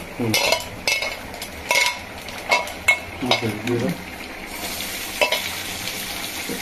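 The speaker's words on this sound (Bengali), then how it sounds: "চিংড়ি মাছগুলো এবারে একটু নাড়াচাড়া করে নেবে, একটু হালকা ফ্রাই করে নেবে" Prawns are stirred and lightly fried in a hot pan, giving a steady sizzle broken by repeated scraping strokes of a spatula or spoon against the metal, close and fairly loud.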